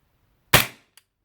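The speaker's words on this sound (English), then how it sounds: "let's just do a little bit of shooting over here" A Cybergun/VFC FN FNX-45 airsoft pistol fires a single sharp, loud snap that decays quickly, followed by a faint small click a moment later.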